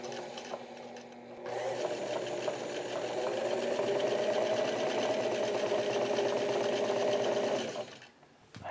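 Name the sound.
sewing machine stitching a shirt collar band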